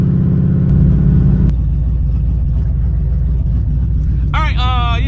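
Turbocharged SN95 Ford Mustang engine revved with a quick blip that drops back to a steady idle rumble, close and loud, with a voice speaking briefly near the end.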